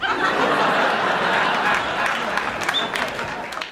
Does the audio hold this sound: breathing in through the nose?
no